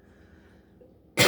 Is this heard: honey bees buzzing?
no